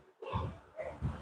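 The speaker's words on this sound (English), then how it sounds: "Oh, that was a burp?" A person gives a short, rough, guttural burp, heard close up as two low throaty bursts in about a second.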